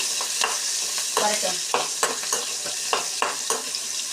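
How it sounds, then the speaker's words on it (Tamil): Tamarind sautés in oil over a low flame while a spoon stirs it, giving a continuous soft sizzle broken by repeated scraping strokes, close and clear with no talking. "கொஞ்சமாக புளி சிம்மில் கொஞ்சம் வச்சுக்கோங்க. இது நல்லா வதங்கட்டும்."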